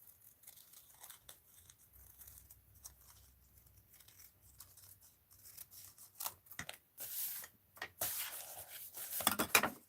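Scissors trim a mixed-media art piece, giving soft snips and paper crinkling and rustling that grow busier and louder toward the end, close and otherwise quiet.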